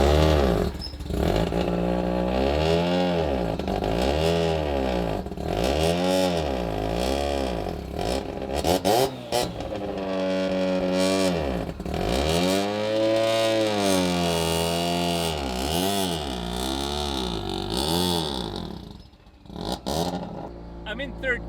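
A rotary-engine car pulling hard in third gear, its engine note repeatedly rising and falling in loud, close sweeping revs over about twenty seconds, with speech faintly over the engine.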